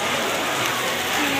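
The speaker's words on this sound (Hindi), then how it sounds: "बारिश देखो आप लोग इतनी ज़्यादा बारिश हो" Heavy rain pours steadily at an outdoor fair by a temple, a dense, even hiss with no break, loud and close.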